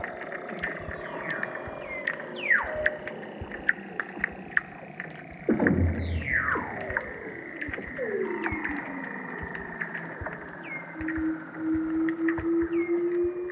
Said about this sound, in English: You can lie on the sea ice and, if you're lucky, hear the seals singing below.